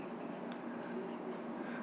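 Pen or pencil scratching steadily on paper while an answer is written out, a close, continuous writing sound with no talk.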